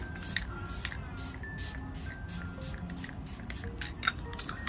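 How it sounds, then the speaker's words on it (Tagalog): ZC makeup setting spray with fine glitter is misted onto a face in a run of short, close, hissing spritzes with faint handling clicks between them. "mag-spray ako ng ZC na makeup setting spray para tumagal naman ang ating face"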